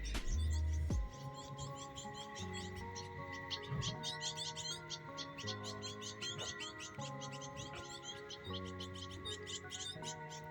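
Birds chirp and trill steadily in an urban garden in Nairobi, Kenya, a dense outdoor chorus of overlapping calls at moderate distance with a low background hum and a brief louder sound at the start.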